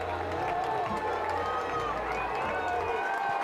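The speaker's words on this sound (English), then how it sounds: "Gerke Field, this home crowd getting loud." A home crowd at Gerke Field grows loud during a college football game, a steady roar of many voices that builds and holds, with a commentator speaking over it.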